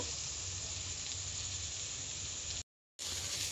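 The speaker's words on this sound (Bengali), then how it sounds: "এখানে দেখো পেঁয়াজ আমি ভেজে নিচ্ছি" Onions frying in oil with bay leaf and cumin, an even, close sizzle running steadily before a brief cut to silence, then resuming.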